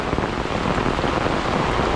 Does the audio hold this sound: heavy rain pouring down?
yes